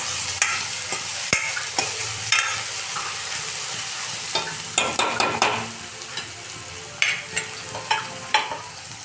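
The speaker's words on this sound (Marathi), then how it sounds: "आता ठेचायला आपण 2 मिनटं छान असं परतून घेऊ." Green chillies and a generous amount of coriander fry in a hot pan for a village-style Vidarbha varan bhaji, giving a steady sizzle broken by repeated clicks and scrapes of stirring, close and continuous with no voices.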